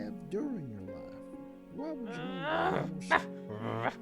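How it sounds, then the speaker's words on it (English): Dogs bark and yip in short, excited bursts, some whimpering in between, fairly close and loud against a quiet background. "Wait, are those dogs I hear?"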